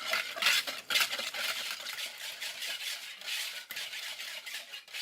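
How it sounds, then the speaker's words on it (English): Quick bread batter with vanilla extract being whisked in a bowl, a steady brisk scraping and swishing that runs the whole time at close range with no talking. "Whisk it all together."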